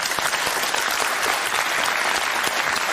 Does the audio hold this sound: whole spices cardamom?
no